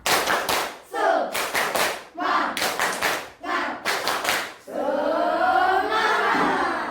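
Schoolchildren in a classroom perform the 'tepuk semangat' clapping chant, with loud patterned bursts of group clapping separated by short pauses, ending in a chanted shout.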